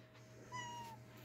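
A house cat gives a single drawn-out meow, faint and indoors over a low steady hum, with no talking.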